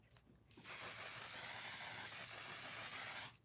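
Makeup setting spray misted from a bottle in one long, even hiss lasting about three seconds, close and fairly loud, starting and stopping abruptly against a quiet room.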